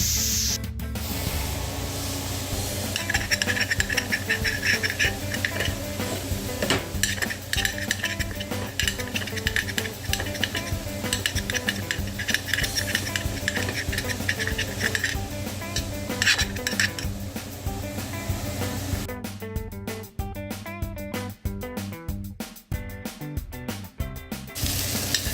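Vegetables for meat pies sweat and sizzle in a pot, a continuous frying hiss mixed with repeated scraping stirs and utensil clinks against the metal, close and busy throughout.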